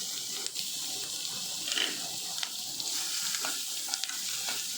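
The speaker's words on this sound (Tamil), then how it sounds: "இந்த எண்ணெயில் இந்த பச்சை மிளகா இஞ்சியோட பச்சை ஸ்மெல் போகிற வரைக்கும் ஒரு ரெண்டு நிமிஷம் நல்லா வதக்கிக்கோங்க" A ground paste of green chili, ginger and coriander sautés in hot oil for mor kuzhambu, a buttermilk curry, giving a steady close sizzle with occasional stirring scrapes and no talking.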